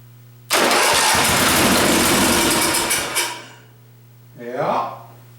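An engine cranks and catches, then runs at a loud, steady idle for a few seconds before fading. A brief whirring rise follows after a short pause.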